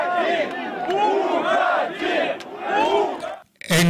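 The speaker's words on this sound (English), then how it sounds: "when the crowd starts shouting, step down" A protest crowd chanting and shouting in unison at a speaker to step down, loud rhythmic group shouts in repeated waves that cut off abruptly near the end.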